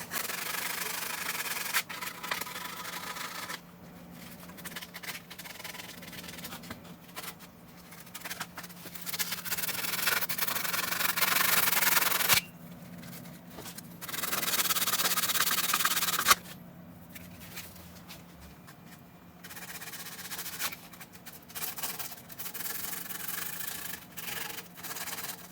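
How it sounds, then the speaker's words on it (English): Sanding a brake rotor on a 2019 Ford F150, with long stretches of close, loud gritty rubbing in bursts separated by short pauses. "Sand it up one."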